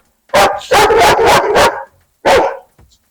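A dog barks close by in a quick burst of about five sharp barks, pauses, then lets out one more bark before falling quiet.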